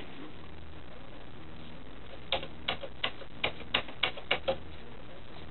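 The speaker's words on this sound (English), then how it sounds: "the sound of old keys." Keys of an old Commodore VIC-20 computer being typed on, about eight sharp, close clicks in an uneven rhythm after two seconds of quiet room hiss.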